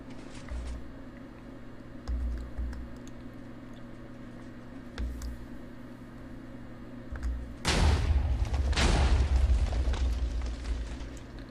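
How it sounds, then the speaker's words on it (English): Upper cannons firing on a slime-block robot in a video game: low, muffled booms thud at intervals, then a pair of louder, crackling cannon blasts roll out over a steady background hum. "let's fire the upper cannons now"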